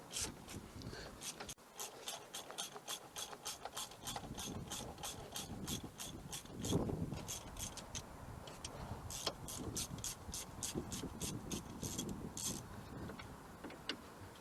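Rapid clicking of a ratchet loosening a brake caliper slider bolt on a 2019 Ford Fiesta ST, several bursts of close, crisp pawl clicks with brief pauses between them.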